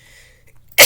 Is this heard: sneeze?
yes